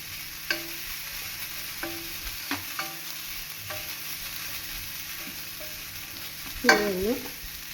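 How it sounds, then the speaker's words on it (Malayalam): Grated coconut frying in a pan with coriander and chilli powder, a steady soft sizzle with several brief stirring scrapes and a louder burst of stirring near the end, close and without talk. "തേങ്ങ മൂപ്പാകുമ്പോൾ മല്ലിപ്പൊടിയും മുളക് പൊടിയും ചേർക്കാം കേട്ടോ"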